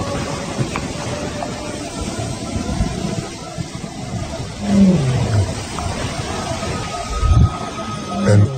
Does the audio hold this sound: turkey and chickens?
no